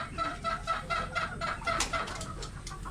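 Several chickens clucking steadily in rhythmic bursts, close by, on a backyard farm, with a busy farmyard murmur underneath and no talking.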